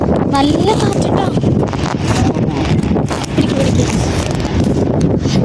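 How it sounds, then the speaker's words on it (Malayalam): A strong dust storm wind is blowing in the Saudi Arabian desert. Loud, continuous gusts buffet the microphone with a heavy, rough roar that barely eases. "നല്ല കാറ്റ്, അതും പൊടിക്കാറ്റ്."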